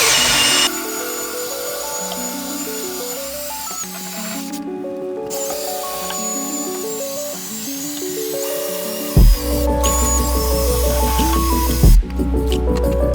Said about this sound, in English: here goes a satisfying extraction for you.